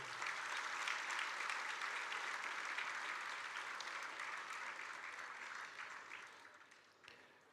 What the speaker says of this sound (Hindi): तो एक बार उनके लिए तालियां होनी चाहिए।